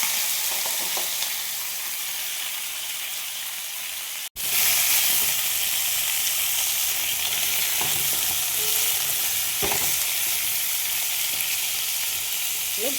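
Washed pumpkin pieces fry in a kadai with a steady, close sizzle, stirred now and then with scraping strokes; a brief dropout interrupts the sizzle partway through before it resumes just as loud.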